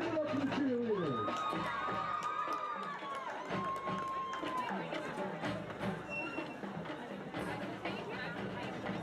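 A crowd at a Griswold high school football game cheers and applauds for the cheerleading team, a broad, steady roar of noise with voices mixed in throughout.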